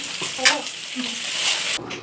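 Meat simmering in a pot on a home kitchen stove, giving a steady soft sizzle and bubbling with a brief stirring scrape, close and continuous.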